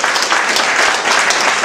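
Warm applause for Mr. Stergios at a Greek association's pita-cutting gathering honoring Agios Kosmas Aitolos, a dense, loud wash of clapping from a crowd, steady throughout with no one speaking.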